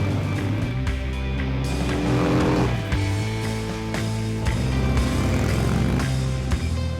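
Harley-Davidson motorcycle with the Milwaukee-Eight engine, a deep, steady rumbling drone that holds loud throughout with a few small rises and shifts in pitch, and no voices over it.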